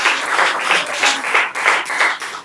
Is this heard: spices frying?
no